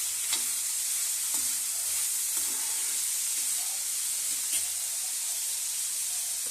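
Onions sizzle steadily in a hot oiled pan for ridge gourd chutney, with a soft, continuous hiss broken by regular scrapes of stirring.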